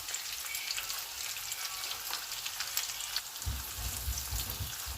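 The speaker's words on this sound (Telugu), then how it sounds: "దీంట్లో 1 స్పూన్ జీలకర్ర వేస్తున్నాను" Cumin seeds hit hot oil already holding green chilies and chopped ginger, producing a constant close crackling sizzle with a low bubbling rise toward the end.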